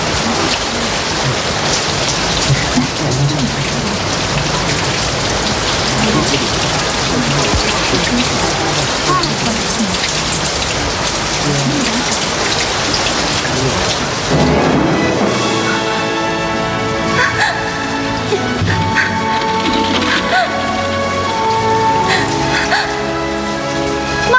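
Heavy rain pours down outside in a dense, steady hiss that holds loud for the whole stretch, its texture shifting partway through as other faint tonal sounds emerge beneath it.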